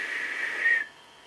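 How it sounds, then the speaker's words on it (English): A cartoon character lets out a steady, fairly loud whistle that holds one pitch for under a second, rises briefly, then cuts off abruptly into near silence. "He whistled and vanished."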